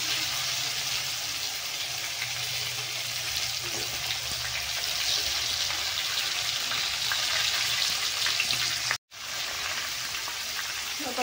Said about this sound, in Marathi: आता हे असे वांगे सोडायचे आहेत आपल्याला तेलामध्ये मस्त असं।